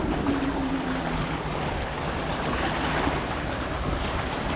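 Surf washing steadily onto a beach, a continuous broad rush of waves with wind buffeting the microphone, no voices, along Bang Saen Beach in Thailand.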